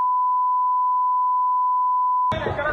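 A censor beep covers abusive words shouted at a political rally stage: one steady, loud pure tone lasting over two seconds, then it cuts abruptly into noisy crowd sound.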